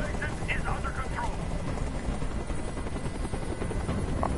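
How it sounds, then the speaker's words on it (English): Video game helicopter hovering overhead, a steady broadband rotor drone throughout with faint voices beneath it. "Tell that helicopter to get out of here."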